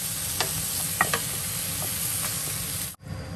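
Catfish and shrimp stir-fried in a pan, a steady sizzle with scattered scraping clicks of a utensil stirring, ending in a brief sharp drop before the sizzle resumes.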